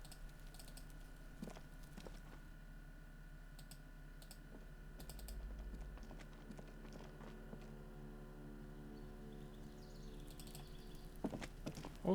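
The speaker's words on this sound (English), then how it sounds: "I don't want my keys to be audible." Computer keyboard keys clatter in a room, irregular light clicks and taps spread across the span, with occasional louder bursts near the end, quiet and close with no one speaking.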